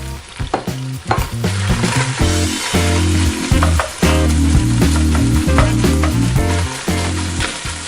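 Partridge, bacon and sliced onion frying in a pan for soup, a loud close sizzle with repeated stirring and scraping strokes, accompanied by tonal music throughout.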